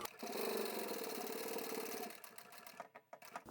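Sewing machine stitching a fabric pot lid cover, a steady fast mechanical whir running close and loud for about two seconds, then stopping with a few softer clicks and handling noises.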